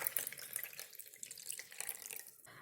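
Warm water pours steadily into a rye sourdough starter in a bowl, a continuous close splashing trickle that runs for a couple of seconds and breaks off near the end.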